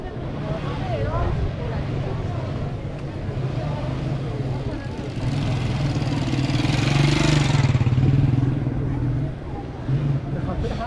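Motorcycle engines drone and swell as riders pass along the main street of Tabriz, Iran, a continuous mid-pitched hum with louder passes mixed into street noise and talk.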